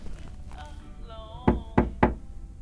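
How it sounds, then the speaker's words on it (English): Three sharp knocks land on a door in the video game Lake, coming in a quick, evenly spaced series. They follow a short soft vocal murmur and are fairly loud and close. "Knock, knock."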